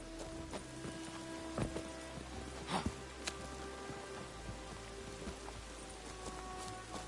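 Steady rain falls in The Witcher video game, a continuous hiss of drops on surfaces with occasional brief knocks and footstep-like sounds mixed in, no speech.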